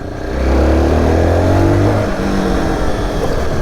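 Zontes R1 310 motorcycle engine running close by, a deep steady drone that swells briefly as if revved and then settles back to a lower hum.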